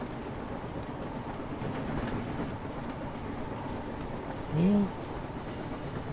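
A train in Train Sim World's Wonders of Sodor rumbles along steadily at moderate distance, with a brief tonal note near the end; a voice speaks a short word.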